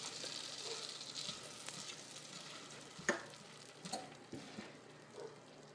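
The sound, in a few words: butter melting in a pan over low heat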